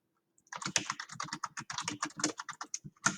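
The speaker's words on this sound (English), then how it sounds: "We can type." Rapid typing on a computer keyboard, a close, crisp run of dozens of key clicks at an even pace with a slightly harder stroke near the end, heard alone without any talk.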